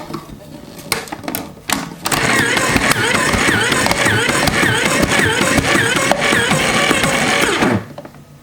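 A Cooks Essentials electric mandoline motor whirs steadily while cutting potato into fries, a loud mechanical grinding buzz running for several seconds after a few clicks, with a person speaking nearby.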